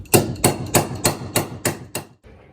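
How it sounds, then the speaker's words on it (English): Hammer strikes inside a van stripped out for a road-trip conversion, seven sharp evenly spaced blows about a third of a second apart, close and loud, then stopping. "we need a hammer"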